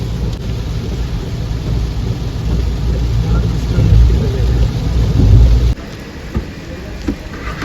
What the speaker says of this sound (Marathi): बाहेर मस्त असा पाऊस सुरू झाला आहे